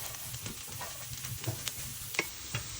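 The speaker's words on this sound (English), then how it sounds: "Stir it occasionally and fry these for 5 more minutes." Potatoes frying uncovered in a pan, with a soft, steady sizzle broken by a few light stirring clicks and scrapes. It is fairly quiet and close, with nobody talking.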